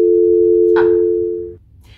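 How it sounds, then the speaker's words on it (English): Steady telephone dial tone from an old rotary dial telephone handset, loud and continuous for about a second and a half before cutting off, with a short rustle of handling partway through and no talking. "And you wait for the dial tone."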